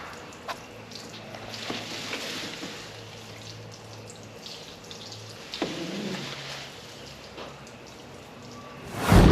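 Water splashed onto a floor to wet it down and settle dust in a home spray booth, a steady dripping, pattering wash with a few sharper splashes and a louder burst at the very end.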